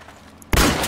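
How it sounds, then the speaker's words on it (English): Gunfire in the military shooter Project Reality as someone shoots at enemy supply crates. A sudden loud, sharp burst hits after a quiet moment and rings on to the end. "I'm shooting their crates."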